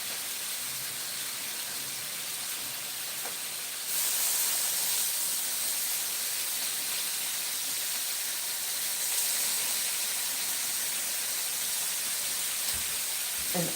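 Breakfast food sizzles in a cast iron skillet in a home kitchen, a steady hiss that swells louder partway through and carries on without pause.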